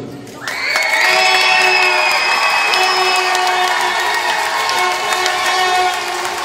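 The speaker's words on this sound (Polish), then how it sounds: "Brawa dla kibiców." A large crowd at a sports competition cheers and applauds loudly, a sustained roar of voices and clapping that swells in and holds steady.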